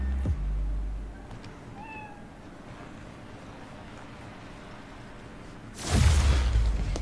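Cat meowing in the video game Spider-Man: Miles Morales, one short faint meow early on over a steady low ambient hum, followed near the end by a loud whooshing burst.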